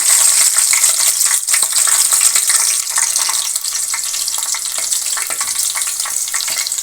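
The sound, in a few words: green chillies frying in hot oil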